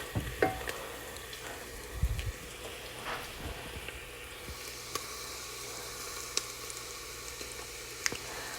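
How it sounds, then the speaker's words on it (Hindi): Onions with a spoonful of yogurt frying in a pan, a soft steady sizzle with a couple of louder clatters of a spoon near the start, then quieter crackling and occasional taps. "तो अब मैंने ये डाल दिया है और इसको थोड़ा सा और भूनेंगे।"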